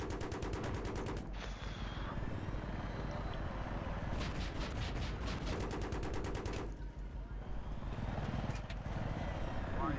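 Heavy automatic gunfire from an attack helicopter pounds a building in the Battlefield 3 video game, coming in long rapid bursts with short gaps, over a constant mechanical drone.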